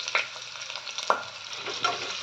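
Onion with cloves, cinnamon, cardamom and cumin frying in a pan for peas pulav: a quiet continuous sizzle punctuated by a few sharp scrapes of a stirring spoon, close and without speech.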